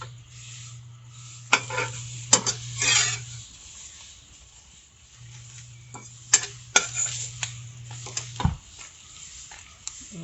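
Bread for an egg sandwich toasts in a pan to golden brown, giving a soft sizzle under scraping and tapping of a utensil against the pan. A low hum from the stove runs beneath it, and there is no talk.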